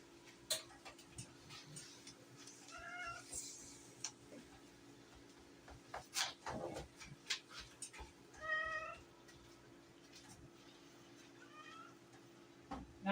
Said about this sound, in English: We got a little kitty cat in here. He smells the hamburger meat.